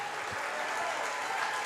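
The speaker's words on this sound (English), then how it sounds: "even the Kilgore fans are giving him applause because, again, it was a great pitching job by him tonight" Kilgore fans applauding the pitcher at a high school baseball game, a steady wash of clapping from a crowd in the stands, fairly distant and even throughout.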